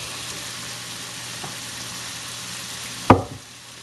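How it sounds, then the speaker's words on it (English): Chicken frying in a pan over high heat gives a steady, even sizzle throughout, with a single sharp knock near the end. "increase the heat to high and fry for 3 minutes or until the chicken is white"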